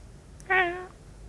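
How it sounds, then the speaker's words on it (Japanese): A relaxed cat gives a single short, soft meow in a quiet room, rising and fading within about half a second. "好きな猫の鳴き方はリラックスしてる時の"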